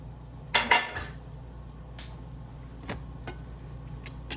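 An omelette of plantain and avocado slides out of a frying pan, with a pair of quick clattering scrapes of pan and utensil near the start, then a few faint light taps in a quiet kitchen.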